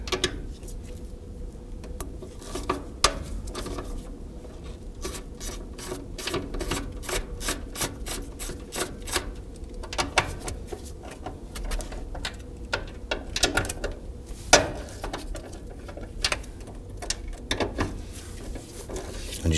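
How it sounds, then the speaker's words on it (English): A 1/4-inch ratchet with an 8mm socket clicks in repeated bursts while loosening the nuts around a fuel pump module on a 2005-2009 Subaru Legacy, with close, sharp clicks and some rubbing of metal parts. "I'm just using my 1/4-inch ratchet."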